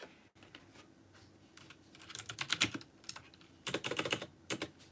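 Rapid typing on a small computer keyboard, close and moderately loud, in irregular bursts of key clatter with short pauses and no talking.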